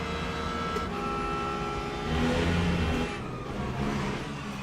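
Le Mans Ultimate racing game with hypercars on track, a loud continuous engine drone with layered tones that rises in pitch and swells briefly midway, with no talking.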